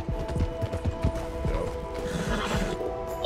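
Horse hooves clip-clopping in a steady trotting rhythm while riding in Red Dead Redemption 2, close and clear over faint game mechanisms, with a brief spoken word.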